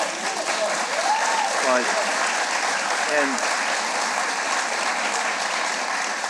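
Audience clapping fills a city budget hearing, a dense, steady wash of applause that holds for the whole stretch, with a brief voice heard faintly near the start.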